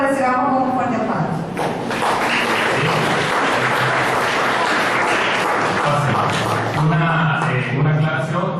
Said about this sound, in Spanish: pido que lo recibamos con un fuerte aplauso